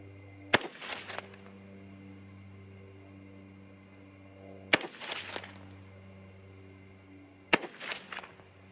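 Three sharp, loud rifle shots from a Bear Creek Arsenal .223 fired at a range target at 100 to 200 yards. Each crack has a short echoing tail, spaced a few seconds apart.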